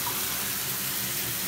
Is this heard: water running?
yes